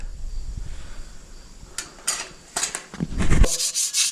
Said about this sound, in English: These are relatively new drums. I like to scuff them up